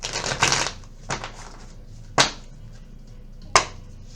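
Tarot cards are shuffled by hand in a few separate quick riffles and snaps, close and crisp against near silence, with no voices.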